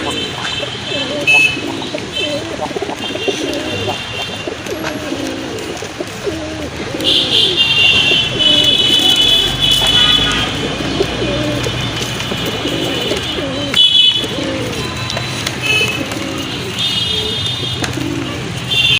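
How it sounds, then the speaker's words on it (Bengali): A male Sapchila pigeon coos in repeated deep, rolling bursts close by, over a steady background murmur. "এই যে দেখেন সাপচিলার একটা নর পুরা বাঘের মতো ডাকে খুবই চমৎকার একটা নর কবুতর"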